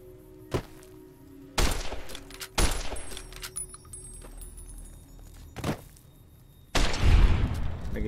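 Weapon fire in Fallout: New Vegas: a handful of separate, punchy shots and thuds spaced irregularly across the clip, the last one heavier and longer, over quiet ambient game sound.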